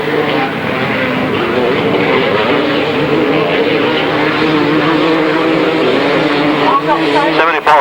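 Several 250cc grasstrack motorcycles race together at a 1993 meeting, their engines droning as a loud, continuous buzz with shifting pitch. Crowd and commentary noise sit underneath, and a few sharper revs stand out near the end.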